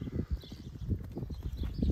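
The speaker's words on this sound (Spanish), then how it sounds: "La idea era mostrarlo cómo sale el caballo después ensillado" A saddled country horse walks with steady, dense clip-clop hoofbeats, close and continuous throughout, with no talking.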